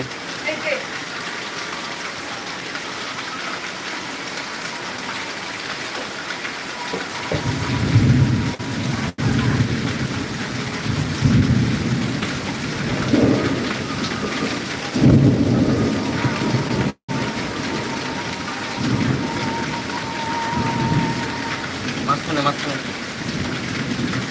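Heavy rain and a thunderstorm in Tangail, Bangladesh: a dense, constant roar of rain on surfaces with deep rolling thunder building in the second half.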